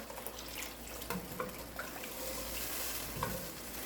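Liquid being stirred into a pan of carnitas, with a utensil scraping browned bits off the pan bottom; a steady wet sizzle and swish with a few brief scrapes, close and moderately loud, with no talking.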